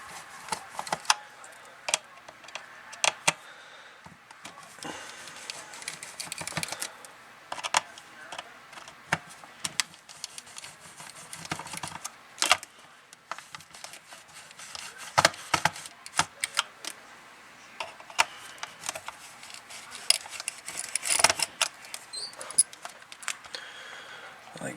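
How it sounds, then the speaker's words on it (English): Small screws are removed from a Tecsun PL660 radio, producing scattered faint clicks, ticks and scraping of a screwdriver on plastic in irregular bursts, with occasional quiet talking. "Then we'll take these screws out of the radio."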